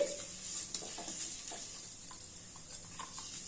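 Mustard seeds, cumin, urad dal and garlic frying in oil for a broad bean curry, a quiet steady sizzle with light crackles and faint stirring clinks.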